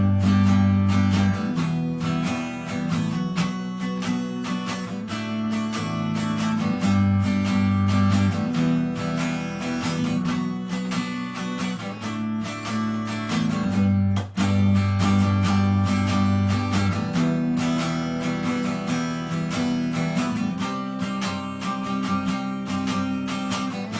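Rhythm guitar strums the verse chords of a song, with dense, driving and continuous strokes that stay loud and close throughout, without any voices.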